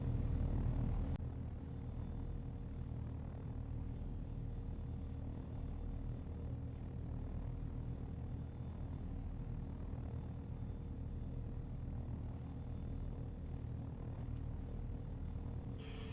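A helicopter engine in the video game DayZ drones steadily at close range, a dense low rumble with a constant mechanical hum that holds at a near-even loudness throughout, with no voices.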